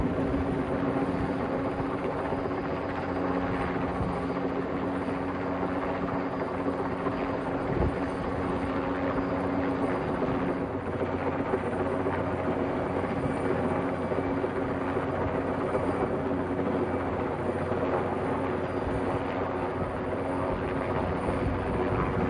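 A helicopter hovers close by a cell tower while lifting heavy antennas, its rotor and engine producing a loud, continuous thudding roar that holds steady for the whole stretch.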